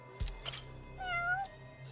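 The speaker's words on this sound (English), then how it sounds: "Oh, look, a cat." A cat meows in the video game Judgment, two short soft mews followed by a longer rising-and-falling meow, fairly close over a low steady background hum.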